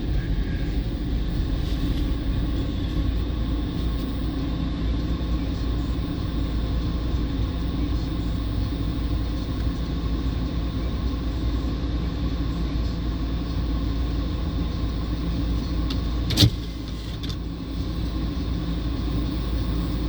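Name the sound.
train passing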